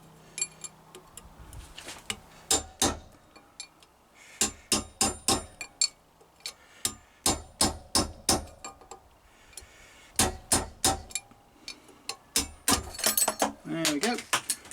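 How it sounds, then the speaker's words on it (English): A drift and hammer knock out the rear wheel bearing spacer of a Triumph Bonneville T140 motorcycle: sharp metallic blows land in quick irregular bursts, close and loud, with quieter pauses between the rounds of strikes. "You can actually make a drift to go in there that sits in that, and then you can hammer it out."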